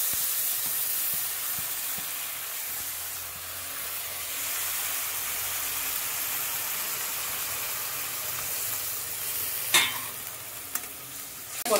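A water-mixed paste of ginger, turmeric, cumin and coriander powder fries in a pan. It gives a soft, even hiss and sizzle for the whole stretch, with a couple of stirring knocks near the end and no talk.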